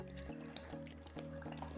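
Water pours into a pot for a homemade vegan nacho cheese: a soft, continuous liquid stream with light gurgling, fairly quiet and alone.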